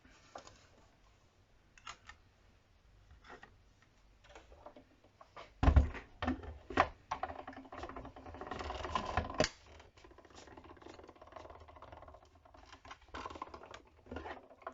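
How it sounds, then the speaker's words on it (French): A craft paper punch cuts through paper during Christmas gift box decorating, giving a few sharp, close clicks and crunches among quieter handling and rustling sounds. "Toujours la pastille qui coupe contre le papier"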